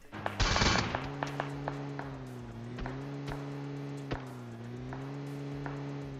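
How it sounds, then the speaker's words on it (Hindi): Scattered single gunshots and short bursts of enemy fire crack out in a battle royale video game, sitting over a steady vehicle engine hum, with one loud burst near the start and sharp isolated shots after it. "अब ये पहाड़ के बंदे गोली चलाने की पूरी कोशिश करते हैं"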